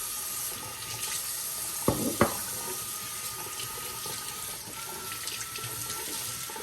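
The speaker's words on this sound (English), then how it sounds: "I'm gonna get some nice, warm, soapy water." Tap water runs steadily into a sink, a continuous close hiss and splash with a couple of brief clunks near the start, ready for warm soapy water to wash jars after canning meatballs.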